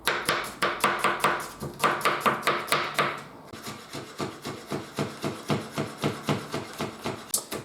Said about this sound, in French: tu vas venir émincer bien finement tes oignons